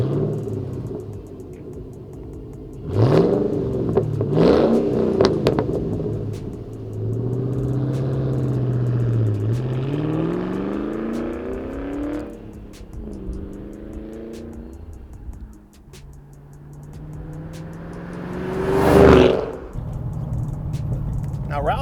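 A Ford Mustang GT fitted with a Roush stainless steel off-road cat-back exhaust drives along, its engine droning and rising and falling in pitch, with loud revving surges near the start and again near the end.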